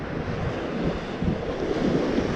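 Ocean surf rolls in as a continuous broadband wash of waves, pushed along by a west wind, with steady wind buffeting on the microphone and no voices.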